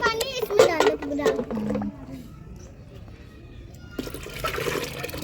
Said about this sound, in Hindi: पानी इसमें डाल दो पूरा